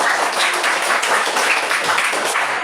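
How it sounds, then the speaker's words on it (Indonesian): A group, likely a classroom of students, claps hands in dense, loud, continuous applause close by, a steady wash of overlapping claps with no break. "Ya, tepuk tangan dulu."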